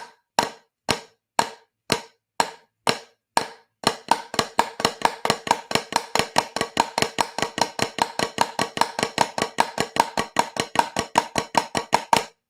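Drum sticks play flams on a practice pad: eight widely spaced grace-plus-full strokes, then a fast steady run of paired taps continuing to the end, crisp and close with no talking.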